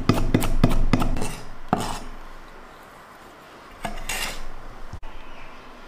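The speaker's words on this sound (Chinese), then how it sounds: "再来切点蒜末" A kitchen knife chops garlic into fine bits on a cutting board, giving a quick run of sharp, close taps at the start, a lone chop near two seconds, and a short second flurry later.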